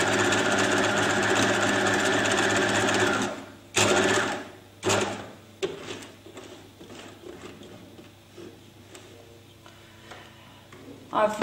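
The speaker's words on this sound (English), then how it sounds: "It's a good idea to do a small back stitch to secure the top, and I will continue down." A sewing machine stitches a lapped zip, running steadily for several seconds, then stopping and restarting in short bursts, close and clear over a quiet room.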